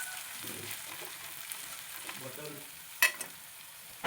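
Onions frying in a pan for a chicken dish give a steady, close, fairly quiet sizzle with soft stirring scrapes and a sharp clink near the end.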